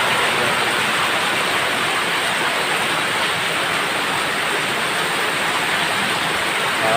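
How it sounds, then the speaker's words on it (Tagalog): Steady, dense roar of heavy rain pouring down without a break, loud and close, filling the whole stretch with a constant hiss. "Lakas ng ulan."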